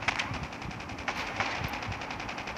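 Rapid bursts of gunfire from Call of Duty Mobile played on a smartphone, a steady stream of close, evenly spaced shots running throughout with a couple of louder cracks mixed in.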